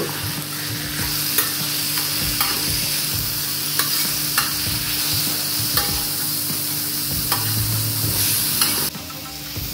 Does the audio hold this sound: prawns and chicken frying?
yes